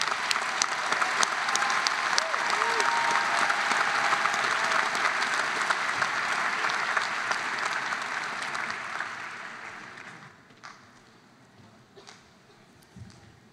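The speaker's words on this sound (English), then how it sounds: "So please give a round of applause to the doctoral degree recipients." A university commencement crowd applauds doctoral degree recipients, a loud sustained ovation that holds steady for several seconds, then thins and fades to scattered claps and room noise near the end.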